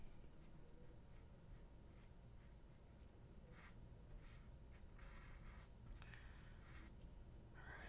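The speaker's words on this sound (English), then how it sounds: "I'm gonna have to draw it in a weird angle." Pencil or pen drawing on paper, soft scratchy strokes in short bursts over a low, steady hiss, close but faint, with no voices.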